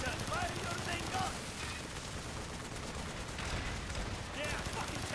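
Video game gunfire in Call of Duty: Black Ops, with rapid overlapping bursts and heavy firing forming a dense, continuous barrage, partly under shouted voices.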